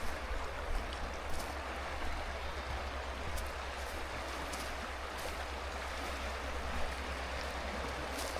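River rapids rush past a trout fishing spot in a continuous, even roar of flowing water at moderate loudness, with no voices over it.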